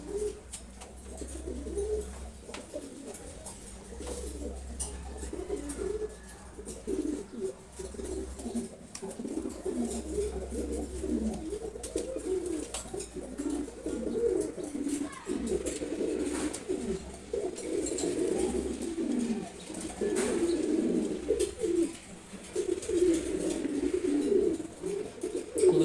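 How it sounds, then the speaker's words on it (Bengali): An adult male ghiya chulli pigeon coos in low, repeated throaty bursts close by, with soft shuffling and faint background noise throughout. "আর ও হচ্ছে পূর্ণাঙ্গ অ্যাডাল্ট নর কবুতর"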